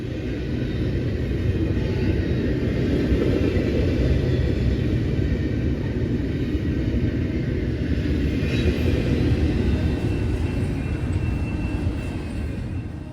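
A CSX freight train rolls steadily past, a continuous loud rumble of locomotives and wagons with broadband rolling noise that stays dense and even from start to finish.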